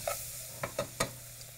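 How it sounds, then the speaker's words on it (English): Bacon for a mustard-braised rabbit dish sizzles softly in a pan, with a faint steady hiss broken by a few quick stirring clicks, close and quiet. "we're going to add a little bit of bacon to the dish"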